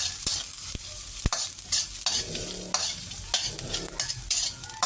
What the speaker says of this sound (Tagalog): Mabilis lang maluto yung bawang sa yung sibuyas sa yung luya.